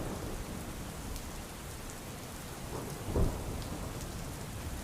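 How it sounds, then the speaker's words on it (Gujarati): Heavy rain with strong wind over Gandhinagar, a steady dense downpour hissing throughout, with a brief low rumble of thunder rolling in near the end. "અનેક વિસ્તારોમાં ભારે પવન સાથે વરસાદ વરસી રહ્યો છે"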